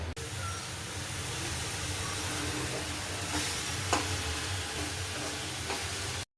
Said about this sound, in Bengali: আমি ফ্রাই প্যানে দিয়ে দিলাম তেল মাছ ভাজার জন্য